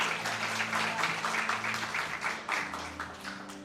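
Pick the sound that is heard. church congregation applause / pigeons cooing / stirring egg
church congregation applause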